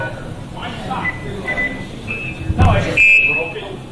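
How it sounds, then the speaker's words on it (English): Short electronic beep tones sound several times, steady and high-pitched, with a person talking around them and a brief knock partway through. "the beep that you would hear was this"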